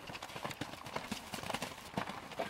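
Horse hooves clip-clop in a quick, uneven rhythm during a horse ball lesson at a riding school in Cherbourg, moderately close, with faint voices in the background.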